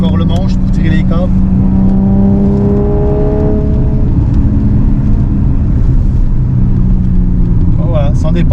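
Inside a 1987 BMW E30 325iX on the move, the engine drones and whirs steadily as the car drives, loud and close, with someone talking over the cabin noise.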